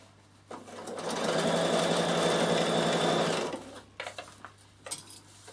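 A Bernina sewing machine stitches laminated cotton in one steady, loud whirring run of about three seconds, ending abruptly, with a few soft clicks and handling noises before and after.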